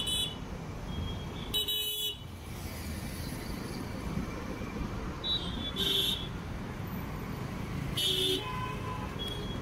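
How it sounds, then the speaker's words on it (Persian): Tehran city traffic hums along as several short, sharp car horn toots sound at intervals, at moderate distance, over a steady background rumble. "ترافیک تهران واقعا کشنده است"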